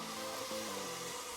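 Compressed air hissing steadily through a coolant vacuum filler hooked to the cooling system of an Audi S4, a continuous loud whooshing hiss with a tonal whine that shifts pitch a few times.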